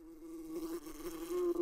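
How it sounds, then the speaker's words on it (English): Buzzing bees drone steadily, a close, wavering hum that grows louder toward the end. "Those are bees!"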